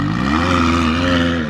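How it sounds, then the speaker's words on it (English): A race car engine revs briefly at close range, a steady harmonic roar that climbs slightly in pitch over about a second and a half. "It's actually not that loud for a race car."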